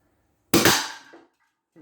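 A single sharp crack from an Umarex air pistol fired outdoors, loud and close, with a short ringing decay and a faint knock afterward.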